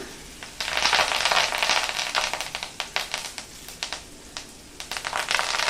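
Ginger and curry leaves dropped into hot tempering oil while cooking a cabbage dish, crackling and sizzling loudly up close in a dense, spitting hiss with rapid pops that rise and fall.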